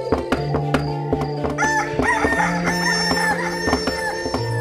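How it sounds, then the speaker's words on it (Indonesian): A rooster crows repeatedly in a sustained cock-a-doodle-doo, loud and close, over a steady rhythmic thumping as a wooden pestle pounds a mortar. "Memukul alu kelesung hingga membuat ayam jantan berkokok."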